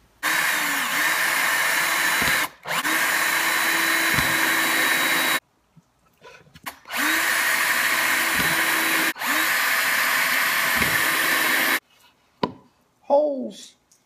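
Power drill boring countersunk holes in a backer board, two long steady high whines, each with brief dips in speed, separated by short pauses and followed by small clicks and handling sounds.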